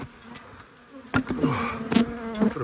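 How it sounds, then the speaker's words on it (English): Honeybees fly around an open hive, a close, buzzing drone with a steady pitch that swells as individual bees pass near, several louder passes standing out over the constant hum. "These bees are still flying."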